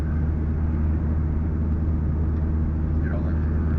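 Steady low road rumble and engine drone inside a Citroën C4 driving with the windows closed, continuous and even throughout, with no wind noise.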